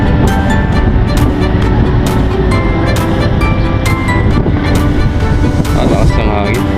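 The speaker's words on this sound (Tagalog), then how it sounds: "Alakas ng hangin." Strong wind buffets the microphone over rushing sea and a droning boat engine during a rescue of a capsized ship, loud and constant, with occasional sharp knocks and brief voices.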